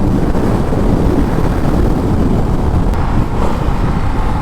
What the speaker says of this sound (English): let's open her up here. There's fifth gear doing 80.